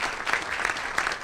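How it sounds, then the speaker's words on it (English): An audience at a forum for New York City Democratic mayoral candidates gives a round of applause, a brief, steady patter of clapping from a mid-sized crowd. "Let's give them all a big round of applause."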